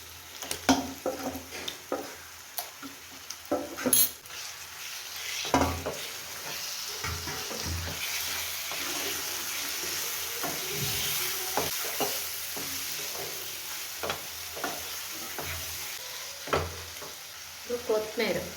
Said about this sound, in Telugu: అంతా బాగా వేగిన తర్వాత మ్యాగ్నేట్ చేసి పెట్టుకున్న చికెన్ యాడ్ చేయాలి.